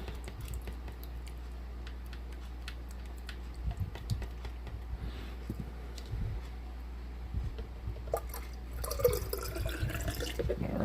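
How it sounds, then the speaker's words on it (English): Snow globe water being stirred with the original glitter mixed in, giving soft liquid swishes and small splashy clicks that are close and fairly quiet, alone, with a busier burst of sloshing near the end. "I was able to get the original glitter, so I'm going to stir this up some"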